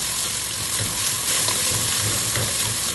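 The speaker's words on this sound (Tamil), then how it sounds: "அந்த ஆனியனை நல்லா ஃப்ரை பண்ணி எடுத்துகிட்டு அதில் 200 ml ஆயில் சேர்த்துக்கோங்க." Onions fry steadily in oil in a kadai, a dense continuous sizzle with stirring scrapes, loud and close with no talk.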